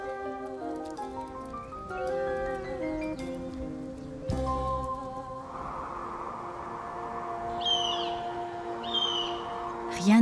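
A northern goshawk calls in a pine forest, two harsh rising cries near the end, heard over sustained tonal background music and faint rustling.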